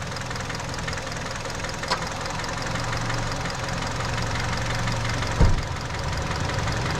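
Kia Sportage engine idling with the cabin heater blower on full, a steady mid-low hum and even vibration throughout, with a couple of brief knocks.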